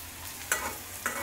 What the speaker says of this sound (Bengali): টমেটো কুচি পেঁয়াজের সাথে একটু হালকা ভেজে নেব।